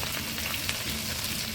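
Mustard seeds, cumin and chilies sizzle in hot oil, producing a dense, even crackling hiss that stays steady and close throughout the short moment.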